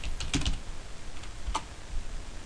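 Someone types a few quick, close keystrokes on a computer keyboard, a short cluster of clicks followed by scattered single taps, with no talking.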